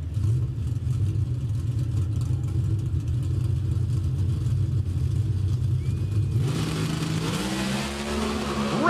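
Pro Stock drag race cars at Sonoma roar loudly and steadily under a deep, rumbling engine drone, with the pitch shifting and rising toward the end as the cars accelerate.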